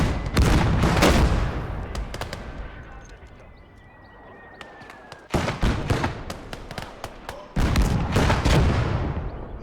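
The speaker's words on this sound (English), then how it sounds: "All right, mortar teams are go." Mortar fire in the World War II game Gates of Hell: heavy, booming detonations with rumbling tails come in dense clusters, a quieter gap in the middle, then further volleys, loud and close.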